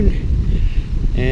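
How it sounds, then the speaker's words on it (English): Afternoon wind blowing across a vegetable garden, steady gusty rushing and buffeting on the microphone, loud and close, with a brief voice near the end. "It's windy in the afternoon."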